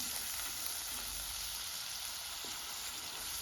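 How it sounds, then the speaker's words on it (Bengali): Garlic paste frying in a hot pan for a taro-stolon curry, giving a steady, close, dense sizzle that holds evenly throughout with no talking. "রসুনটাকেও আমি ভালোভাবে ভেজে নিচ্ছি।"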